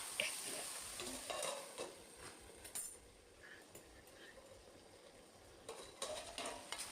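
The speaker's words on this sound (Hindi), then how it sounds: "इस तरह से इसमें धीरे धीरे सिकाई हो रही है और इसे इसी तरह से ढककर पकाते जाना है" Okra with raw mango cooks in a heavy-bottomed iron kadhai, giving a faint, steady sizzle with occasional scraping stirs and light clinks, close but quiet throughout.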